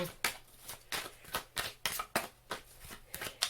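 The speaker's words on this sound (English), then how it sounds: "from the way the cards are kind of shuffling" Tarot cards shuffled during an oracle reading, a rapid run of crisp riffling bursts repeating roughly every half second, close and fairly quiet with no talk.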